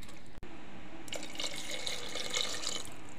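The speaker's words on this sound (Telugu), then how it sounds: "ఇంకో 1 లీటర్ వాటర్ పడుతుంది," Water poured into a pressure cooker while making Hyderabadi haleem, a splashing, trickling pour starting after a second of quiet hiss and running steadily to the end.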